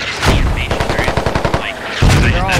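A squad shooter video game fires a rapid automatic burst, a string of a dozen or so sharp, evenly spaced shots with heavier booms at the start and end, loud and close over chatter.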